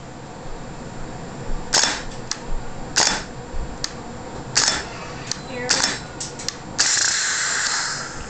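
A GHK AK-74M gas blowback airsoft rifle is fired without its dust cover, giving sharp, close semi-automatic reports with metallic clacks as the bolt cycles, spaced irregularly, then a brief rapid burst near the end.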